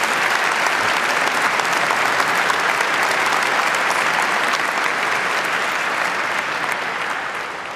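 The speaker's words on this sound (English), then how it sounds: "Another big round of applause for all of them" Sustained, dense applause from a debate audience honoring a panel of speakers at an IQ2 debate on copyright and piracy, steady and loud throughout before tapering slightly at the end.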